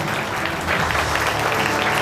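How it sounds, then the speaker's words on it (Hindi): Dense, sustained applause from a sizeable crowd, steady and loud throughout. "इहदे लिए अपने लिए तालियां मार लो, अपने लिए मारनी है,"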